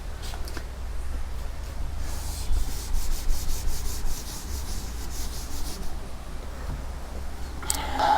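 A duster rubs across a classroom board to erase writing, giving a steady, close scrubbing sound in repeated strokes that runs nearly continuously.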